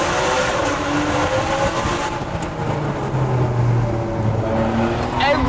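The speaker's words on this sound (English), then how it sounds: "Every time you hit a tunnel in a Ferrari, you should wind the windows down and give it some stick." Ferrari 599 GTB Fiorano engine driven hard through a road tunnel: a loud, sustained roar with rising and falling revs echoing in the enclosed space, close and continuous throughout.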